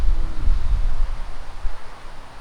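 Strong wind buffets the microphone at a beach, a low rumbling roar that gusts unevenly and heaviest in the first second, with a faint hiss above it and no voices.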